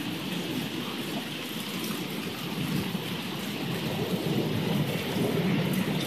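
Steady rain falls during a thunderstorm in East Central Indiana, while deep thunder rumbles and rolls in the distance without pause.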